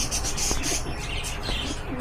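A pigeon coos softly and close by, a few low rounded calls over steady background noise, with no talking.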